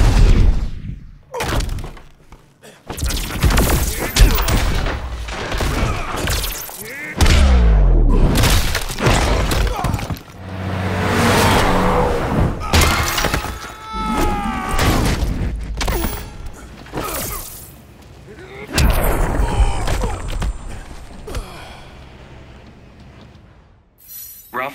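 Raphael's shell shot attack in the fighting game Injustice 2, heard among a busy run of thuds, crashes, clanks and booming impacts with bursts of game voices and effects.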